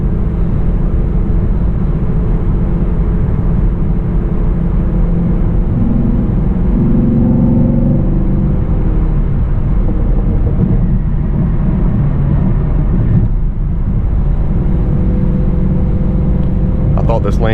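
A Chevrolet Camaro SS 1LE engine pulls hard and steadily in fifth gear, its drone rising under road and wind noise, with a voice talking over it at times.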